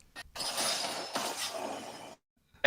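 A sword super's impact from the video game Destiny: a bright, crunchy slash-and-shatter burst lasting about two seconds, followed by a brief metallic ring.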